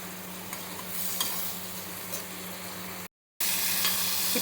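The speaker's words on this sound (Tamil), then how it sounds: "இது ஒரு 2 to 3 மினிட்ஸ் இந்த மாதிரி வதங்கணும்." Chicken liver with curry leaves sautés in a pan, a quiet, close sizzle with occasional stirring clicks, broken by a short total dropout near the end before the frying noise resumes.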